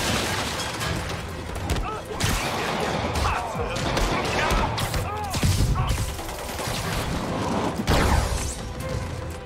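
Enemy gunfire in Spider-Man Remastered on PS5, with bursts of shots, booms and crashes forming a dense, loud, chaotic battle noise, and a voice talking over it at times.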